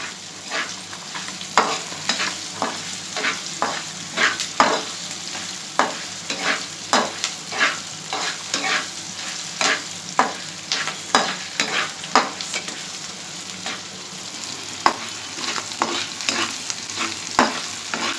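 Cooked rice spread with salt frying in a pan, with a constant sizzle under rhythmic scraping strokes of a spatula that repeat every second or so throughout.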